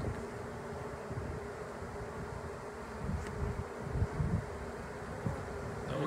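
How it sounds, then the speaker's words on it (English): Honeybee foragers caught in a trap-out hum as a steady, dense buzz close to the microphone, with faint wind rumble underneath and no talking. "all of these bees that we've trapped out are foragers"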